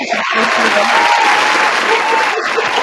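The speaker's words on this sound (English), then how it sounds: "Round of applause." A room full of audience members at a community meeting applaud steadily in a dense, loud patter of clapping that runs unbroken for a few seconds.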